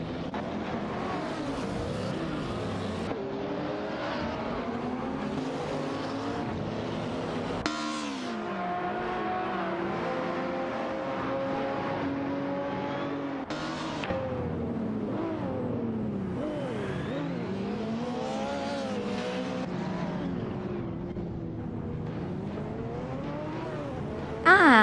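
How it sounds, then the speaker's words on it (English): Race car engines in an AI racing video game, droning and shifting pitch continuously as the cars speed along, with layered engine tones rising and falling through gear changes, steady and moderately loud without talk. "Racing car dashing away."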